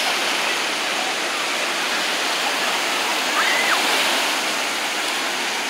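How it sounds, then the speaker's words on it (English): Steady roar of surf breaking on a beach, loud and continuous, with bigger tidal waves washing in close by and no voices over it. "Bigger tides, bigger waves."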